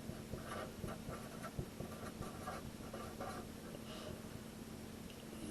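Pen strokes from someone writing out an equation, a faint, steady scratching with small taps, quiet over a low background hum.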